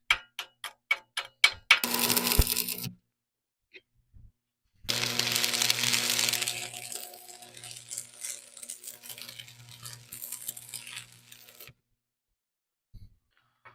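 Stick electrode welding on a farm planter: a short burst of crackling arc noise, then a longer steady crackle with a low hum, preceded by a few sharp metallic ticks and followed by quiet.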